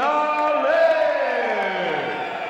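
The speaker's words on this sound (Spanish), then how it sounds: "hay silbidos, hay abucheos, pero también hay aplausos como reconocimiento a una pelea interesante" Boxing arena crowd reacting to a unanimous points decision with a loud, sustained wash of whistles, jeers and applause, one drawn-out falling whistle standing out above the steady noise.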